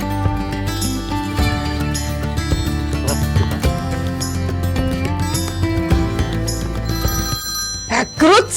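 A telephone bell rings repeatedly in the foreground over a dense, busy background of music and sound effects.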